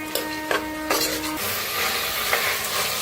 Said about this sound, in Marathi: आता ह्याच्यातच बटाटो बी टाकूया. छान असं भाजून घेऊया.